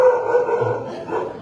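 A dog barks and yips outdoors at an evening gathering, giving short, fairly loud, close calls with no talking over them.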